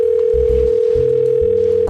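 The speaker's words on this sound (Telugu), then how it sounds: "ఫోన్ వస్తుందిరా నీదే" A mobile phone ringing with a steady electronic tone, loud and close, continuous over short rising musical notes in the background, no talking.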